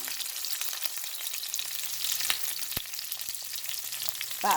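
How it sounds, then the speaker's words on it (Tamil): Onion sautéing with salt in a pan for squid curry, a steady close sizzle with a few faint clicks of a spatula. "இந்த வெங்காயம் வதங்குறதுக்கு கொஞ்சம் உப்பு போடுவோம்"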